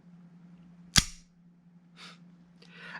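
Elite Force M9 airsoft pistol fires a single sharp, snappy report with a quick metallic decay, followed by a couple of faint clicks and rustles over a low steady hum.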